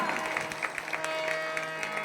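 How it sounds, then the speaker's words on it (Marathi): Applause from a crowd at a multi-day devotional chanting gathering, a steady patter of clapping sustained throughout at moderate distance. "ज्या महिलांनी आयोजन नियोजन केलेलं आहे या सप्ताहाचं त्यांच्यासाठी सुद्धा जोरदार टाळ्या"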